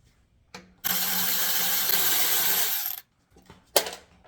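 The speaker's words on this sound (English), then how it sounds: "what you're going to need is that 1/4-inch socket again to remove the 2 bolts that are holding this coil in place" A 1/4-inch socket ratchet loosening the coil bolts on a Toro push mower, heard as a brief click, then a steady mechanical whir of about two seconds, followed by another short burst, close and distinct.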